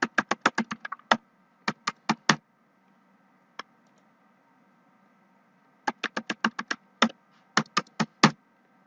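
Keys tapped on a computer keyboard while a password is entered, heard as quick bursts of crisp clicks with a lone tap in between and a long pause before a second run, close and clear over a faint hum.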